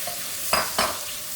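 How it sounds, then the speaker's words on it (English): Chopped onion cooking in oil in a pot for sukuma wiki, a steady sizzle broken by two brief stirring scrapes close by. "So I'm gonna stew my onion"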